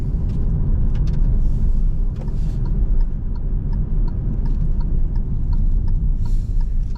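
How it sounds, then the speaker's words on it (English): Engine of a 2022 Hyundai Venue SEL driving slowly around a parking lot in normal mode, a steady low rumble heard from inside the cabin with faint ticking and no speech. "Switch it back to normal mode so we can hear what the engine sounds like driving around the parking lot."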